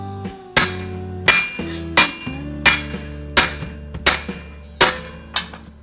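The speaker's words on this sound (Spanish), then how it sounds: "pegamos un poco al lado contrario, arriba de una bigornia o un hierro que tengan liso" A hammer strikes welded steel laid on an anvil to straighten a grill frame, ringing metallic blows landing about eight times in a slow, steady rhythm, close and loud.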